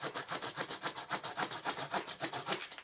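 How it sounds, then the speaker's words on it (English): Multi-tool saw blade cutting through a roughly one-by-two-inch piece of wood, a fast rhythmic back-and-forth rasp, about seven strokes per second, close and steady, with no talking. "worst saw blade ever"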